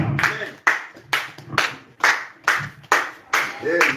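Church congregation clapping in steady rhythmic bursts of hand claps, roughly two per second, with voices talking and singing along underneath.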